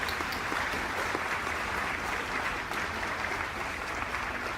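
Dinner-event audience applauding a guest being welcomed onstage at a correspondents' dinner, a steady wash of many hands clapping, even and sustained, heard from within the room.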